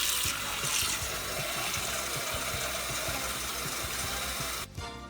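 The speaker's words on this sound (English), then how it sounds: "we're going to fill this pot up with water for boiling the noodles." Steady rushing tap water pouring into a pot for boiling noodles, a continuous broadband hiss with faint clanks, cutting off near the end.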